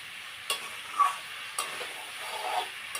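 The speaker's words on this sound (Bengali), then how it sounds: "আর এখানে বেশি করে পেঁয়াজ কেটে মানে তেলের মধ্যে দিয়ে দিয়েছি ভাজা করে" Chopped onions fry in oil with a soft continuous sizzle, broken by a few sharp ticks of a utensil against the pan, close up with no talking.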